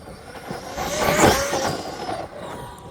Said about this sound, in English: there she is, the MaxXRT 1/8 scale Truggy. Let's see just how fast this thing is.